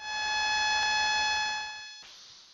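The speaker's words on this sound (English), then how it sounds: "You're just beeping." An online call carries a single sustained electronic beep, loud and steady for about two seconds before it cuts off abruptly.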